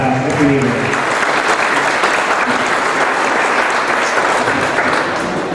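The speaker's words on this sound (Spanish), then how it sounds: "Fuerte el aplauso para recibirla." A crowd at a book presentation in Tecámac gives a loud, sustained round of applause to welcome the municipal president, dense and even clapping with a brief voice at the very start.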